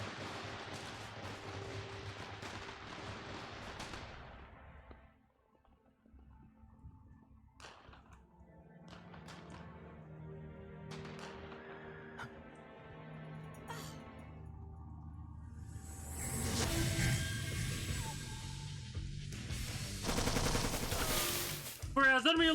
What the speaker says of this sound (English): That's those bullets right there exploding.